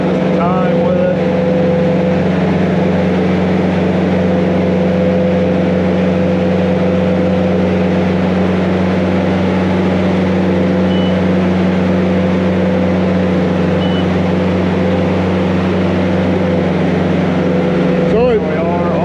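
A laser screed spreading concrete on a large pour, its engine droning loud and steady with the auger and vibrator both running, a constant mechanical hum with tonal whine, and voices talking over it.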